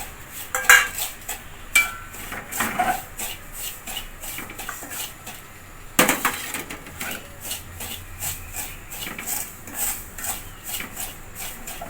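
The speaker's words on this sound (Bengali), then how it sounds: "এরপরে সুজিও একটু ভেজে নেব" Semolina roasted in a pan and stirred, giving a run of quick scraping and clinking strokes of a utensil against the metal, irregular and close, with a sharper knock near the middle.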